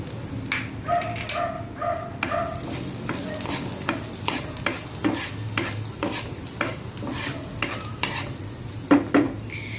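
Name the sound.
garlic sizzling and being stirred in hot oil in a pan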